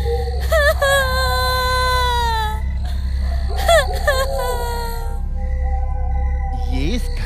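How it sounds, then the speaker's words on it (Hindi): A woman cries and wails in a dense forest, drawn-out sobbing moans with gliding pitch in bursts, a horror story effect over a steady low ambient rumble. "ये इस घने जंगल में किस औरत के रोने की आवाज आ रही है?"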